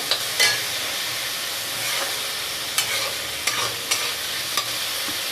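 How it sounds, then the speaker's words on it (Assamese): Ingredients for an Assamese-style fish head curry with rice (muri ghonto), including a green chili, fry in a pan with a steady close sizzle, broken by sharp spatula clicks and scrapes as they are stirred. "অকণমান সময় এইখিনি ভাজি থাকিম।"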